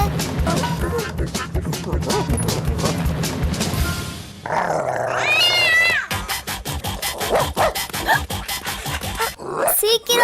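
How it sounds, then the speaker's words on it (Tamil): In a Tamil-dubbed episode of the Cedric cartoon, a cat meows and yowls in short, loud cries, mixed with scratching, scuffling and excited voices talking over it. "செட்ரிக், என் பூனையை காப்பாத்து."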